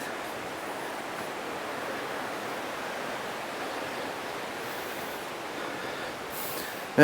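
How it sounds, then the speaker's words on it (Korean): Steady, even rush of flowing water from a nearby mountain valley stream in Korea, continuous and unbroken, with no voices. "계곡 물소리가 들리시죠?"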